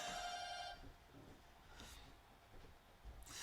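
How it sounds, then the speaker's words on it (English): An electronic doorbell chimes briefly at the start, a bright tone that cuts off after under a second, followed by faint room noise and a couple of soft rustles. "That's the doorbell."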